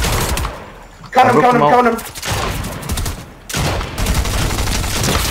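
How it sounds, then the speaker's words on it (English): Rapid bursts of close, loud automatic gunfire from a battle royale trio match, with two long volleys separated by a short pause while players talk over the action. "I'm shooting him"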